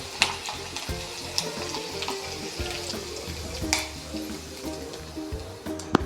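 A hot tempering of oil and green chillies is poured over a semolina snack in a plate, a close crackling sizzle with a few sharp pops and some watery splashing.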